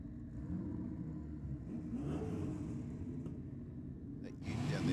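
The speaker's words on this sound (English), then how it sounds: "That ute down there sounding very nice in the burnout." A fuel-injected ute's engine roars at a drag meet during a burnout, a steady, somewhat distant rumbling rev heard across the track with crowd and commentary noise around it.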